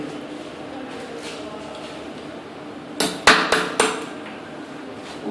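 Three sharp hammer blows strike in quick succession during toilet bowl installation work, loud and close over a low background murmur.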